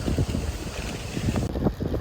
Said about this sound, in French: Je pense que vous entendez le vent, hein, c'est un truc de fou.